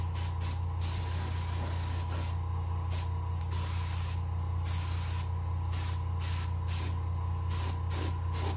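Pearl white paint sprayed onto a taxidermy crappie fish, a continuous airbrush hiss broken by brief pauses between bursts, close and even with no speech.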